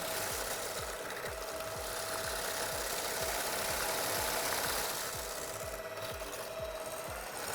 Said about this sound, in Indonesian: Nah, ini kalian bisa menggunakan hand mixer atau stand mixer.